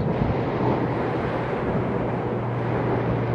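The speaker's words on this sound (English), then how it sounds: "Sound of the waves" Sea waves at high tide wash against a promenade wall in a constant, dense roar with steady wind rumble. The water sounds close and loud, and nobody speaks.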